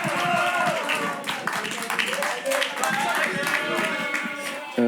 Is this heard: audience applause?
yes